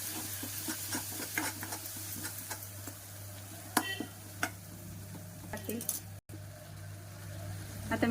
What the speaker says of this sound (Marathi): खोबऱ्याचं कूट आणि दही हे सर्व छान परतून घेते। छान तेल सुटेपर्यंत मस्त ह्याला परतून घेऊया।